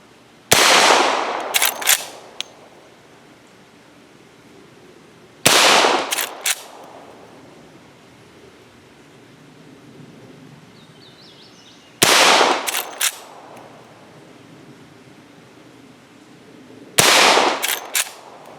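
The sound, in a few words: Henry Big Boy .357 Magnum rifle shots at steel plate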